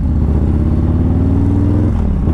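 A 2020 Harley-Davidson Low Rider S with a 131ci V-twin engine rumbles loud and close, a deep throbbing exhaust note that holds steady and then drops off slightly near the end.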